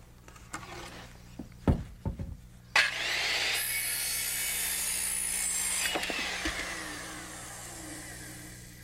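A power saw set to 18.5 degrees cuts a roof rafter for a 4/12 pitch roof: a few knocks and clunks, then a steady close whining cut running several seconds with scraping toward the end.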